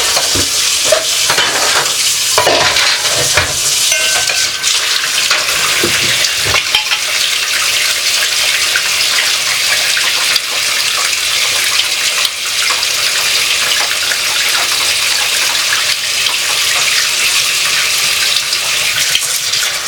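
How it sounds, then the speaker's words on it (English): Dishes are washed in a kitchen sink under a running tap, a loud, steady rush of water with light clinks and splashes throughout and no talking. "Right now, I'm gonna do some dishes, some dishes."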